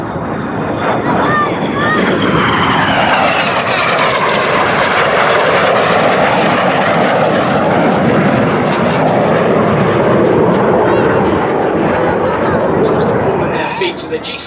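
Red Arrows jets of the synchro pair making opposition barrel rolls at a Duxford air display: one continuous loud roar that swells and sweeps in pitch as the aircraft pass, likely with faint commentary underneath.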